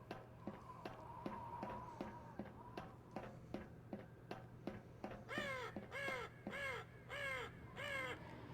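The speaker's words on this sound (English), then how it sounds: "Now it just seems like it's that one single crow." A single crow caws repeatedly in the wintry outdoor world of the game Voices of the Void: several harsh, evenly spaced caws in the later half over a low steady hum and faint ticking.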